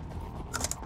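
Weapon reload in Call of Duty: Black Ops 2, a brief run of three quick mechanical clicks and clacks over a low, steady game background.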